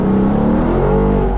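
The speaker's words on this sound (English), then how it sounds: "Oh my God, the backfires too." A Ford Bronco engine revving hard, a loud, close, rising mechanical roar that fills the short moment with no speech.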